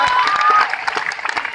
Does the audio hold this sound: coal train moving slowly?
no